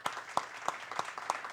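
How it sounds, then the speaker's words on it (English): Audience applause following a talk at a debate on Turkey, with a handful of evenly spaced sharp claps about every third of a second, fairly faint and thin rather than a full ovation. "So please join me in applauding Yavuz."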